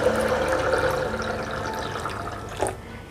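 Water pouring into a blender full of soybeans, a steady splashing rush that slowly fades, with a brief louder splash near the end.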